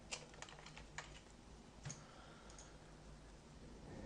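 Quiet computer keyboard typing while a title is entered in web design software: a few scattered clicks in the first two seconds, then mostly low steady room hum with no talk.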